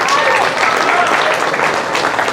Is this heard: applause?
yes